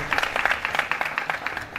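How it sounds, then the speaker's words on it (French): Audience applause at a live comedy sketch show, with many hands clapping steadily and fairly close, a dense crackling patter lasting throughout with no talk. "Applaudissez s'il vous plaît. Merci d'applaudir."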